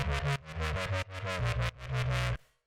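Synth chords carrying a subtle chorus effect play in a short phrase, first with the chorus and then without, in sustained blocks with brief gaps before fading out near the end.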